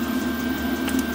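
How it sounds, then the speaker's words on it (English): Diesel heater running steadily in a workshop, a continuous low hum with a whooshing roar filling the background, with no talk over it. "The background noise you can hear is my diesel heater trying to warm the workshop up."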